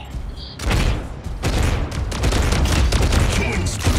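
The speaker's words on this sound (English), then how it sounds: "Incoming fire!" Incoming weapon fire in the Mech Arena video game, a dense run of rapid gunfire bursts and booms, loud and close, rattling on almost without pause.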